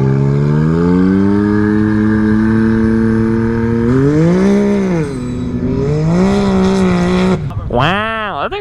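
An off-road vehicle's engine holds a steady drone, then rises and falls through several revs, loud and sustained, with a sharper, higher whine near the end; a person speaks over it.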